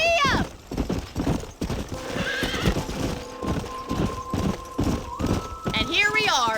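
Galloping horse in the Red Dead Redemption video game, with rapid rhythmic hoofbeats throughout and a loud whinny near the start and end, set against a sustained musical tone and a voice speaking.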